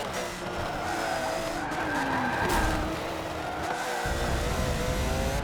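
A race car in Forza Motorsport 7 skids off-road at high speed, tires squealing in a long continuous screech over the steady roar of the engine, loud and close throughout.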